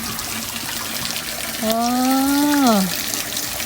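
Spring water flowing down from a mountain water source in a Shan village, a steady close trickle and splash running throughout, with a voice speaking briefly over it midway.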